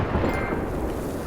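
A naval cannon in the video game Battlefield 4 fires, a loud dense rumbling boom that fills the whole moment with no talk.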